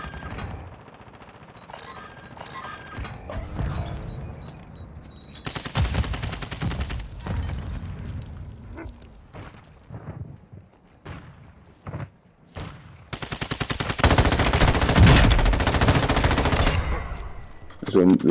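Bursts of automatic gunfire from a Call of Duty match, rapid rattling volleys that come and go in loud clusters, with heavier sustained firing near the end and muffled thumps between.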